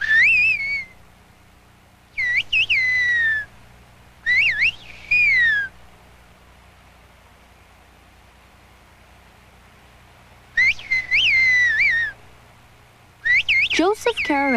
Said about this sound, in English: is this man just whistling a tune? Or could this whistling be a language?